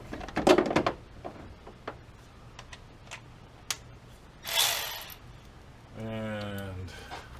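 Milwaukee power tool loosening the steering column bolts on a 1992 Chevy K1500, a short buzzing whir near the end following ratcheting clicks and handling noises, with a voice speaking at times.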